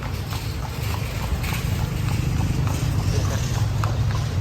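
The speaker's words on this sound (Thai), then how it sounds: "นี่ก็ถือโอกาสในการนั่งรถม้าชมเมือง" Horse hooves clip-clop steadily on a city street as a horse-drawn carriage tours Lampang, Thailand, near an old market and the Wang River, the repeated strikes close and clear over a constant low rumble of traffic.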